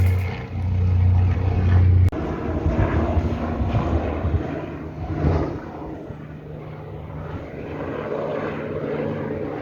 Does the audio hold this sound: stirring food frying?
no